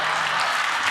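Studio audience applause at a late-night comedy show, a steady dense wash of many hands clapping that fills the whole moment with no voices on top.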